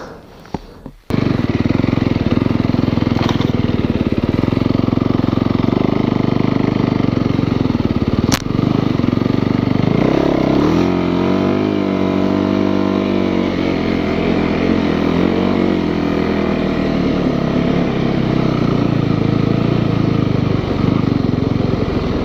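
Snow bike on a Yeti track with its engine revving hard, a loud continuous motor roar that starts abruptly and rises and falls in pitch, heard up close with no talk.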